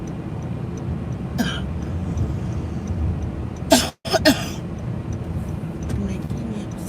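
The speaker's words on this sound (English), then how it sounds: "I'm coughing." A woman in a moving car coughs twice over steady road noise, one short cough followed by a sharper burst, with talk around the coughs.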